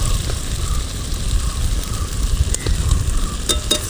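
Ginger, garlic, turmeric and Kashmiri chili frying in a pan, a steady loud sizzle with scraping stirs near the end, close and without talk.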